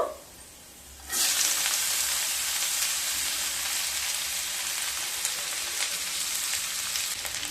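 Masoor dal frying with lightly browned garlic in a pan on medium-high heat, starting after a short quiet moment as a sudden loud sizzle that holds steady, with faint stirring scrapes and no voices.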